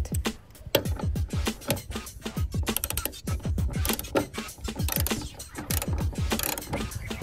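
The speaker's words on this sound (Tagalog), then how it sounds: "Gagamit tayo ng ratchet ulit." A ratchet tightens the screws of a rear door lift support damper on a Suzuki Ertiga, giving dense, rapid, close-up metallic clicking that runs steadily throughout with no talk.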